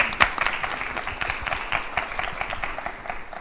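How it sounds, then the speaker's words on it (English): An audience at a pitch contest applauds its judges, a dense, steady patter of many hands clapping together, loud and close throughout with no talk over it. "Let's get a little round of applause for our judges here."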